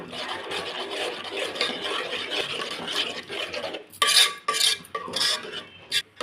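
Spoon stirring mustard powder, fenugreek powder and cumin powder into a red chilli and tomato chutney, a steady scraping swirl against the pot that turns into sharper, louder clinks and scrapes near the end.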